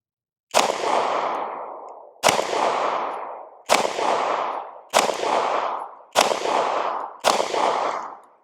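An LNK9 handgun fires six evenly spaced shots at a range, each a sharp crack followed by a long echoing decay, about one shot every second and a quarter with no talk.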